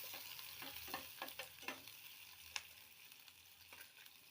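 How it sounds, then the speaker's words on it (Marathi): Onion is sautéed in a pan until golden, a soft, faint sizzle with intermittent stirring scrapes and light taps of a spoon against the pan. "छान सोनेरी कलर येऊस्तर कांदा परतून घेऊ।"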